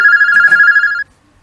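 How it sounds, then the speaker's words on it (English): A phone ring sound effect from Episode Interactive plays as a loud, steady electronic ringing tone with a brief warble partway through, then stops abruptly after about a second. "They also give us phone underscore ring 2. And again, I'm going to preview it."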